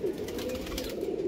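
Pigeons giving a low, steady throaty coo, close and continuous for a moment with no voices over it.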